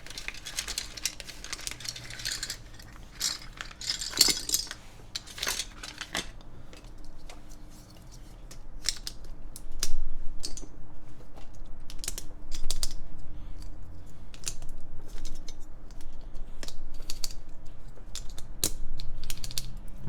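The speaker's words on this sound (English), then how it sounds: "Watching stream while typing out notes." Typing on a mechanical keyboard, with rapid irregular clacky keystrokes close to the microphone that come in bursts and pauses over a quiet background, with no voices.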